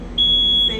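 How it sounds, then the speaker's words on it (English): A smoke alarm sounds one sharp, loud, high-pitched electronic beep lasting about half a second, close by and alone. "what would you do if you hear the smoke alarm going off?"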